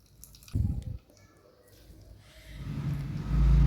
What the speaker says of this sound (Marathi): असं पाणी पिळून काढायचं आहे